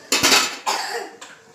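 Fried potatoes tipped into a metal cooking pot for zinga pulao, giving two loud clattering scrapes of food and utensil against the pot with a softer third rattle, close by and without talk.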